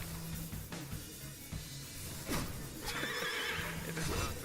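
A horse in the video game Afterimage neighs and whinnies repeatedly across a quiet game soundscape, with faint low tones and a few soft hoof-like thumps.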